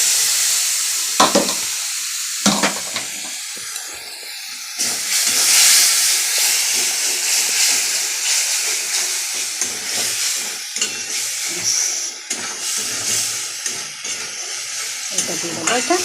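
Water poured onto ginger paste in a hot pan sets off a loud, steady sizzle and steam hiss, preceded by a couple of sharp clinks, continuing strongly while the paste is stirred, with no speech.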